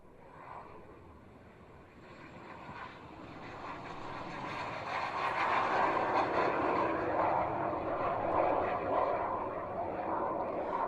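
Aircraft engine roaring during a takeoff at an air show, a steady broadband rumble that builds in loudness over the first few seconds and holds strong, heard from a moderate distance with no talk over it.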